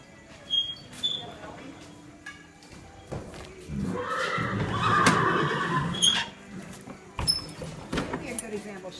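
A horse neighs in a stable stall, a loud whinny in the middle amid shuffling hooves and stall noises, with someone talking nearby.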